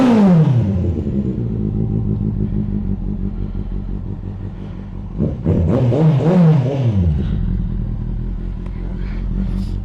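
A Kawasaki Z800 motorcycle with an Akrapovic exhaust idles close by with a deep, lumpy burble, then revs up sharply mid-way and settles back to a throbbing idle.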